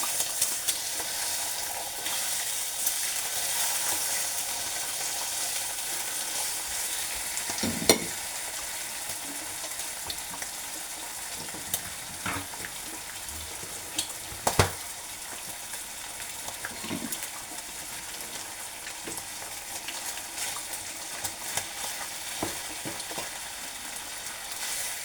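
Eggs fry in a pan at breakfast with a soft, continuous sizzle, broken by a few sharper clicks and taps of the utensils. The sound is fairly quiet and close, with no talking.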